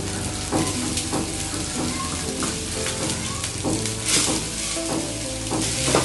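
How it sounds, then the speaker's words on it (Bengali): Okra and eggs fry together in a pan, giving a steady, close sizzle with occasional scraping stirs throughout. "ঢেঁড়স ভাজিটা হচ্ছে, এই সাইডে আমার ডিম ভাজি।"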